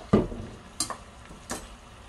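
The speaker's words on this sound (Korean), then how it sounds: "살살 양념 다 배도록 볶아주세요." Abalone and sweet potato in soy sauce seasoning stir-fried over very low heat, a few soft scraping stirs and faint sizzles at a steady pace.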